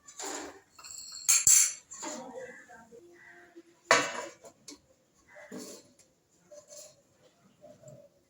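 Clattering metal kitchenware as a lid goes onto a pot of khichuri with rice, dal, potato, beans and cauliflower, a few sharp clinks and scrapes in separate bursts over quiet stretches.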